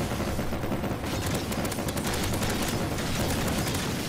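Nonstop gunfire from a weak weapon firing at zombies in Garry's Mod sandbox, a dense, loud, unbroken barrage of rapid shots filling the whole stretch, with no talk over it.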